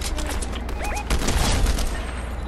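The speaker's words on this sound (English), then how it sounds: "there's gunfire out there" Rapid gunfire in Fortnite Zero Build crackles in a dense burst over a steady rumbling background, sounding fairly distant and continuous.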